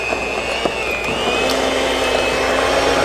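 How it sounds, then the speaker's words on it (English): A cup of butter creamed with lime juice and grated lime peel makes a steady, loud motorized whir that holds evenly throughout, with a faint higher whine and a few light knocks, and no one speaking. "I just want to cream 1 cup of butter with the lime juice"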